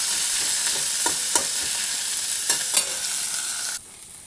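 Onions fry loudly in a pan as a steady hiss, with a few clinks of stirring, until the sizzle suddenly drops away near the end.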